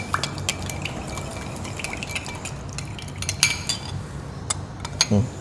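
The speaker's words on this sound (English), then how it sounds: "Just gonna give it a nice whisk" A sauce of smoked paprika and soy sauce is whisked in a bowl, with quick metallic clinks and scrapes of the whisk against the dish, a few louder taps near the end, and no talking.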